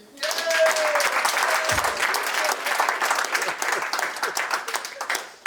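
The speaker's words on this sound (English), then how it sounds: "Clap it up for Andre doing this shit." A comedy show crowd breaks into dense, loud clapping that swells quickly and holds steady, with faint cheers and voices mixed in before it tapers near the end.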